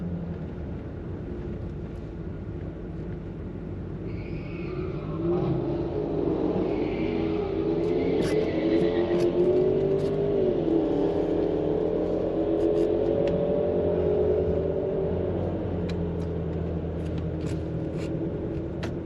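Jaguar F-Type at Santa Pod drag strip, engine rumbling and rising in pitch as it accelerates, heard from inside, with a sustained whining drone that climbs and levels off over nearly twenty seconds.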